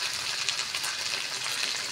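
Ginger paste, ground cumin and coriander frying together in a pan for a moong dal with bottle gourd, giving a dense, even hiss and crackle with no voices over it.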